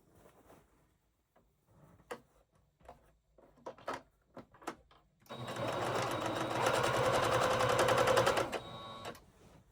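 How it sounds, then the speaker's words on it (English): A few scattered clicks and handling knocks come first, then a sewing machine runs continuously for several seconds, stitching the fabric of a bandana pillow cover right sides together with blue thread. "so back to the sewing machine we go. All right, so I'm going to just sew this on to right sides together."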